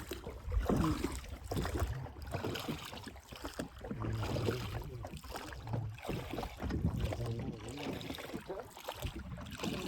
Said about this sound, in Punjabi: ਆਪਣੀ ਬੇੜੀ ਚੱਲਦੀ ਪਈ ਜੇ